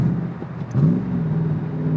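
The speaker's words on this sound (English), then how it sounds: "Delicious downshifts, immediate throttle response with that naturally aspirated engine." Factory Five Roadster Mk II, a Shelby Cobra replica with a naturally aspirated V8, revs hard and downshifts, its close engine note swelling and dropping over a brief burst with no talk.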